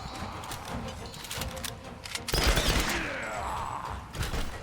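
Gunfire in the Tomb Raider video game: a dense, rapid volley of shots runs throughout, building to a loud, sharp blast partway through, followed by a sustained noisy rush.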